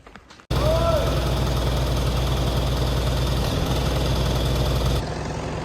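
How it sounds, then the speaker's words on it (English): An old Ferguson tractor engine idles steadily close by, a low, even chugging that runs without a break after it starts, with a faint high whine on top. "Fraser's coming to see the wee tractor."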